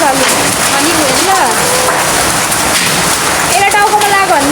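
Hail and rain fall steadily and loudly, with a continuous close hiss throughout and voices talking over it.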